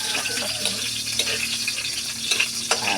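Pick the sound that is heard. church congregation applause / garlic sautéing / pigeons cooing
garlic sautéing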